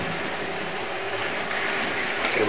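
A model Hornby Flying Scotsman locomotive rolls past on its track, a steady whirring rumble with light clicking wheels that swells slightly as it approaches.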